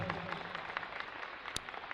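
An audience at a speech gives a dense, steady round of applause, many hands clapping together at a moderate distance for a couple of seconds.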